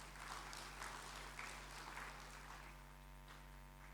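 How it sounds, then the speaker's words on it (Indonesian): Audience applause fills a conference hall at an internal audit national conference in Indonesia: a steady, dense wash of clapping from many hands that lasts throughout, with a low electrical hum underneath. "Aplaus dulu untuk pencapaian Ibu Bapak semua."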